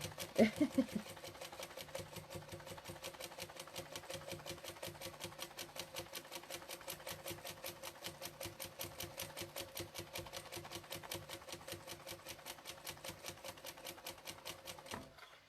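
A sit-down sewing machine stitches free-motion quilting on silk, producing a fast, even mechanical ticking that runs steadily and fairly quietly throughout.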